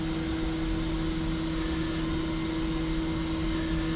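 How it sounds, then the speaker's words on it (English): Roland Versa UV LEF2-300 printer running a colour test print, giving off a steady mechanical hum with a constant whirring tone and broadband fan-like noise, even and unbroken throughout, with no talking. "So now it's printing."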